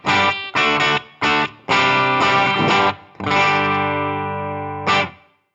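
Distorted Les Paul electric guitar chords on the bridge pickup through a Fractal AX8, played in short bursts, then one long ringing chord sustains and fades, followed by a final brief stab.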